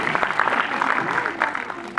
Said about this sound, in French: généralement, là, le public applaudit